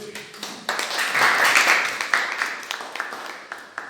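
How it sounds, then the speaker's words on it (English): Students clap in a physics lab class, a short ragged burst of applause that swells and then thins out into scattered individual claps. "Clap for him."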